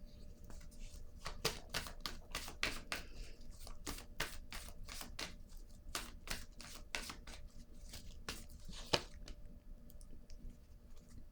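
Tarot cards slap and tick down onto a table in a quick, irregular run of crisp taps, close and fairly quiet, with no talking.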